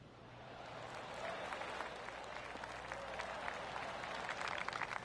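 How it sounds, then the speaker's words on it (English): Scattered golf claps from spectators around the course in the PGA Tour 2K25 video game, a steady soft patter of applause across the whole stretch with a faint crowd murmur underneath. "I can hear the golf claps around the course"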